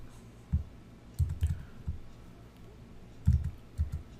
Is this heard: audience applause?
no